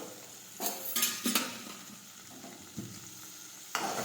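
Chopped tomato and ginger sautéing in a pan for urad dal, a soft steady sizzle broken by several sharp scrapes and clinks of a spoon against the metal pan, close by and with no talking.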